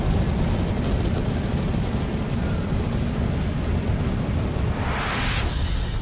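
A helicopter flying in Dune Awakening, a steady loud low engine rumble and rotor wash held throughout, with a brief rushing swell near the end.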